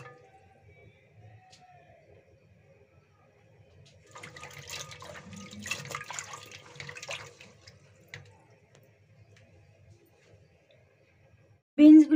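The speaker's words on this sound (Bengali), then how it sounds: "এখন ভালোভাবে ধুয়ে নেব।" Green beans are rinsed under a running kitchen tap, a soft, steady splashing of water lasting a few seconds at moderate distance, with quiet handling sounds around it.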